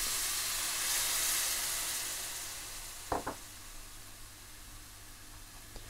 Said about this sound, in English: Add a little heated water and fry for a minute or two to form a paste.